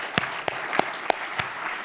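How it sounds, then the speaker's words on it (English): Scattered, sparse claps from a small audience at a Canadian Club talk, about five separate sharp hand claps spaced evenly, faint and thin with no voices over them. "a little applause there"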